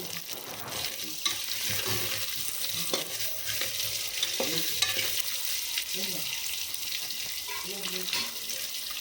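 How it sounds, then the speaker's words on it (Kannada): Chopped ridge gourd frying in oil for a North Karnataka masala palya is stirred in a pan, with a continuous sizzle and scraping stirring strokes close by, and a voice faintly underneath. "ಈ ಥರ ಎಲ್ಲ ಹೀರೆಕಾಯಿಗೂ ಎಣ್ಣೆ ಹಿಡಿಯೋ ಥರ ಮಿಕ್ಸ್ ಮಾಡ್ಕೊಳ್ಳಿ"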